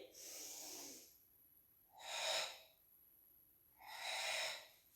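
Three audible breaths during a Pilates push-up exercise, each a sharp airy rush about every two seconds, close and distinct with quiet gaps between, with no talking.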